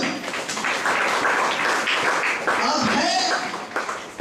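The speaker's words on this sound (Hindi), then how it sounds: "ताली बजाओ।" Audience clapping fills a Hindi-language church gathering: dense, steady applause runs throughout, mixed with a speaking voice.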